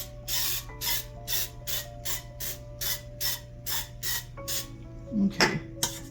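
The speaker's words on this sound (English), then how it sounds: "let me go ahead and spray this a little bit. I don't want these to stick." Short bursts of non-stick cooking spray hiss in a steady rhythm, about a dozen close, loud puffs against a low steady hum, with a clatter near the end; no talking.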